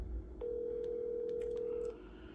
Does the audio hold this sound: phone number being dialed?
yes